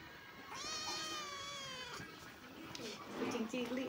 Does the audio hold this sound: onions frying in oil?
no